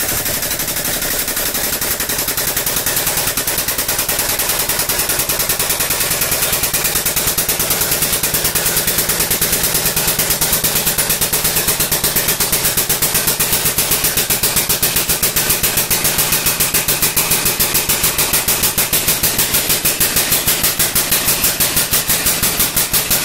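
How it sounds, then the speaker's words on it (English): A rubber pad forming press being hand-pumped down onto sheet metal to form lightening holes, giving a fast, steady mechanical pulsing that stays loud and even throughout with no voices. "I'm going to center each hole underneath the press. So I'm going to approximate center with my finger and I'm going to pump it down."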